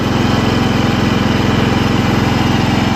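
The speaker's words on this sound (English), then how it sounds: "When I take it down to full run, it kind of sputters a little." A Kohler Command 14HP engine runs on a Troy-Bilt Suburban riding mower, a loud, close, steady rumbling drone with an even rapid pulse throughout and no voices.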